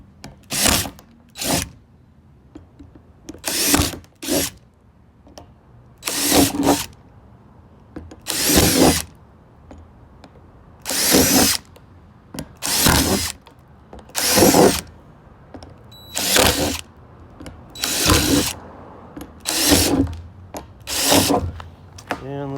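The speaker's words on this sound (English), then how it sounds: "I just gotta put some holes in it." Power drill boring holes through a large 15-gallon plastic plant pot, about a dozen short loud bursts of whirring and chattering, each lasting a second or two with brief pauses between, close up and steady in rhythm.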